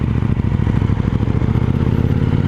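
A KTM 790 Duke motorcycle engine drones steadily and loudly while riding, a close, continuous buzzing roar with fine rapid pulsing and no change in pitch.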